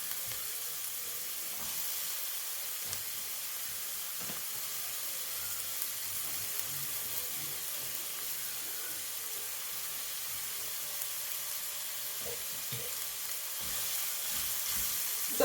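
Onions, garlic and green pepper sizzle steadily in a caldero pot, a continuous bright frying hiss with faint stirring clicks and scrapes throughout, no voices.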